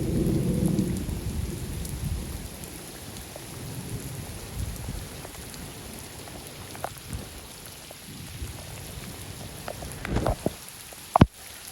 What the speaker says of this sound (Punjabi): ਜ਼ੋਰ ਦਾ ਜਿਹੜਾ ਮੀਂਹ ਪੈ ਰਿਹਾ